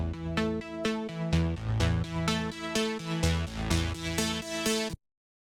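A bright synthesizer patch plays a dry, rhythmic sequence of plucky chord stabs and bass notes, loud and clean, ending abruptly in silence.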